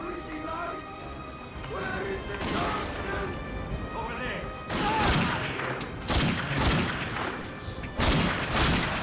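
Gunfire from The Darkness II video game crackles in rapid bursts and sharp single shots with crashes between them, loud and close, over a background of game sound.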